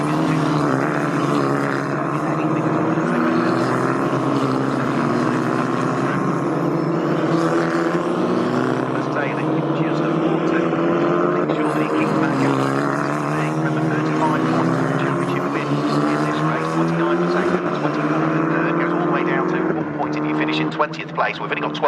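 GB4 Championship race cars roar down the Bentley straight at Snetterton, a loud continuous engine drone with shifting pitch as cars pass, under a commentator's voice.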